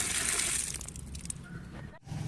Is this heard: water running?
yes